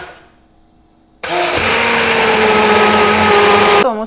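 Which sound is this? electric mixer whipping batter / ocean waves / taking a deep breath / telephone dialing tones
electric mixer whipping batter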